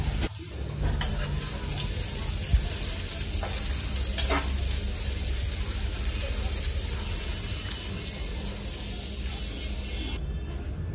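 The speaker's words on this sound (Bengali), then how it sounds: "তেলটা গরম করে নিয়েছি, তার মধ্যে আমি রসুন আর পেঁয়াজ কুচিটা দিয়েছি।" Chopped onion and garlic sizzle steadily in hot oil in a home kitchen, a continuous close frying hiss over about eleven seconds, with a few faint knocks of stirring.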